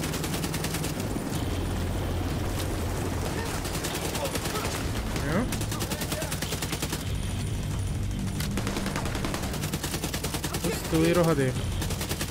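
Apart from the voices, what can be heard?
cannon fire in the video game The Division 2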